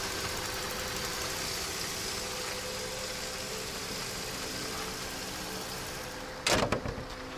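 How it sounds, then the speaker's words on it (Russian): A 2012 Mercedes C300 4MATIC with a 3-litre V6 idles steadily, a smooth, even hum at low level throughout, broken near the end by a brief, louder mechanical clatter. "Объем двигателя 3 литра, V6. Мотор работает отлично."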